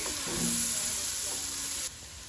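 Quarter of an onion frying in burning butter in a pan at home, giving a steady close sizzle with faint stirring that drops slightly in level near the end.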